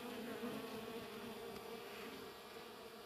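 A swarm of bees buzzes steadily at their hive, with a large reddish queen among them, a dense continuous drone that stays close and even throughout.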